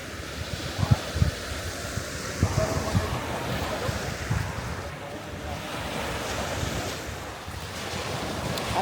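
Sea waves washing onto a beach at Cebu, a continuous surging roar with wind buffeting the microphone and a few louder thumps early on, no talk.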